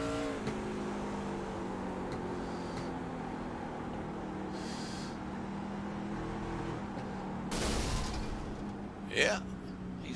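Short track Superleague race truck with a blown engine, heard from inside the cab: a steady, loud mechanical drone with harmonic engine tones throughout, a brief surge near the end, and faint talk underneath.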